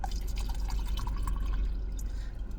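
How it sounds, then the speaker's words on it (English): Water pours and drips with light splashing trickles over a steady low rumble, close and fairly continuous, with no voices. "That's a water pour, you know what I'm talking about?"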